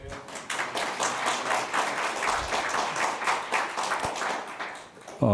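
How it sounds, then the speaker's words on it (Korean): Guests at a policy seminar opening applaud as a National Assembly member is introduced, a moderately loud burst of many people clapping that swells and fades slightly before a sharp sound at the end. "한 분 한 분 소개해 드릴 때마다 큰 박수로 환영해 주시기 바랍니다"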